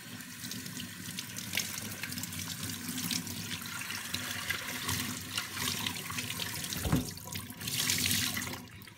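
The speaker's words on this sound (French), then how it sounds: "je vais rincer chaque écheveau sous l'eau pour retirer les excès" Wool skeins being rinsed under a running tap, with a steady broad wash of flowing water and splashing that keeps going throughout, fairly close and without talk.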